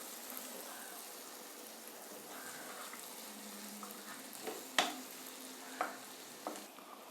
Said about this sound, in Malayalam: ഇളകി കൊടുക്കാം